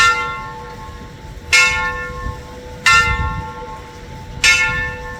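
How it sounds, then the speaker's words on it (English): A large bell rings three times at steady intervals, each strike bright and ringing out with a long humming decay. "There's a bell ringing over here."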